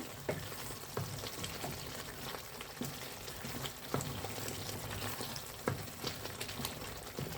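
Spice powders sizzle in hot oil in a pan while garlic kuzhambu is being made, giving a steady, soft frying hiss with scattered small pops and crackles and no talking.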